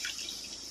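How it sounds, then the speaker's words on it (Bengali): Water is poured into a pan of liver cooking in spice masala, giving a brief close splashing rush that lasts under a second, with no talking. "জল দিয়ে দেবো এতে।"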